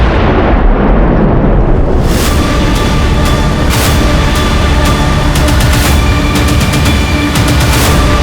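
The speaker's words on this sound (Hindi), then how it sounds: "ये तो छोटा सा धमाका था।" A small bomb blast set off at a building in a crime drama scene, a loud continuous rumbling roar with crackling debris that fills the whole stretch, no voices over it.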